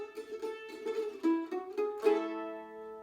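Acoustic guitar strums a short rhythmic count-in, a few steady chord hits with no voice, signalling a bluegrass band to come in. The strums are moderately loud and close, and the last chord rings out.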